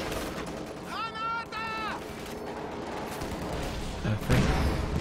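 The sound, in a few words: Sherman tank firing piercing rounds in video game Company of Heroes 2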